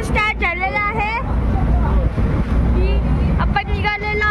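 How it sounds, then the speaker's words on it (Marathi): A ferry boat's engine runs at a Konkan coast jetty as a low, steady rumble beneath nearby talking and general chatter from passengers. "आपल्या बोटचा इंजिन स्टार्ट झालेला आहे."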